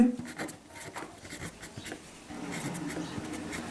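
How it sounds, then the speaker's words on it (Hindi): Chalk or marker scratching on a classroom board during a Class 10 maths lesson on real numbers, several short strokes at moderate level over a faint background hum. "यहाँ लिखना पड़ेगा आपको, यूक्लिड"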